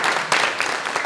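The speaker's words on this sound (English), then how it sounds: "Give them all a round of applause as we introduce them." A crowd at a school district candidate forum claps steadily in a dense, loud burst of applause that fills the whole short moment.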